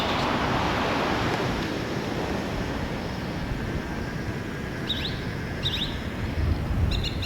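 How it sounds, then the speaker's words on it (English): The Santa Fe River flows with a steady, even rush of water that fills the background, while a few birds chirp faintly and briefly near the end. "I don't hear anything except the river"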